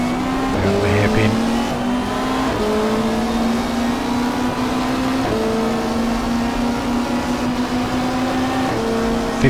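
A 1995 Super Touring race car at the Mallala circuit in South Australia screams loud and close, its engine note climbing steadily and stepping down at each upshift before pulling hard in fifth gear.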